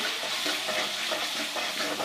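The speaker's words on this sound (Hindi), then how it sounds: "फ्राई करते जाएंगे।" Steady, dense sizzle of fenugreek leaves and lentils frying with turmeric, cumin and nigella seeds in a pan, continuous and close with faint stirring texture, no speech.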